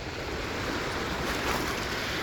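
Waves washing onto the Mississippi River shore, a continuous broadband rush of water with wind noise, steady and close, no speech.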